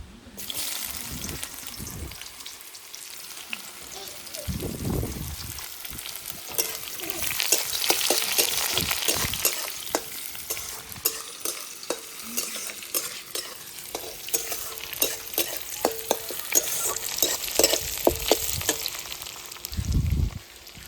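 Chopped onions and slit green chillies drop into hot oil for a chital fish curry with mustard and poppy seed, sizzling steadily with scraping stirs and a few louder clatters throughout, no talking.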